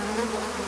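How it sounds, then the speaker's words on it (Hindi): A mosquito buzzes in a steady, continuous whine, close and fairly faint, with no voices. "ये मच्छर!"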